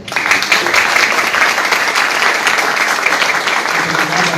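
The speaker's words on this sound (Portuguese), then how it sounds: "peço aí uma salva de palmas" Steady audience applause at an evening lecture event in Brazil, dense, loud clapping from a crowd that starts abruptly and continues evenly throughout.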